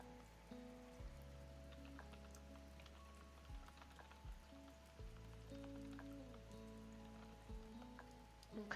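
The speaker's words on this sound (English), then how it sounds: "So I turned on the rain sounds with a little bit of littles" A played rain sound effect gives a faint, steady patter of drops with a low background hum and tonal layers, quiet and continuous, with no talking.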